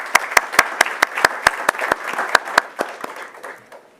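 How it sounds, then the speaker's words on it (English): A hall audience applauds at a staff service-recognition ceremony, with sharp, dense hand claps that hold steady, then thin out and fade near the end. "Please give them a round of applause."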